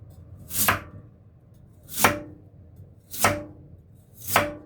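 Four slow, evenly spaced knife cuts through a daikon radish, each a crisp crunch ending in a thud on the cutting board, close up with quiet pauses between.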